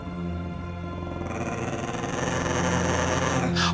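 A dog growls low and continuously, the rumble building louder over a few seconds and close to the listener, with a short harsher burst at the end and no talking.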